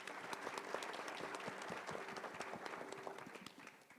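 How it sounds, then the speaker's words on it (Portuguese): An audience gathered on a Sunday applauds for Rafaela, a dense crowd of hands clapping steadily with some individual claps standing out, fading slightly at the end. "Salve de palmas, pessoal, para a Rafaela."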